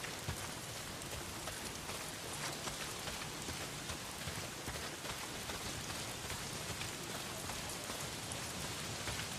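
Heavy rain pours in the video game Days Gone as a steady, dense hiss of drops striking surfaces. It stays loud and even throughout, and no one talks.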